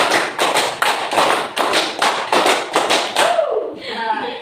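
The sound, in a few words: rhythmic hand clapping pattern in a classroom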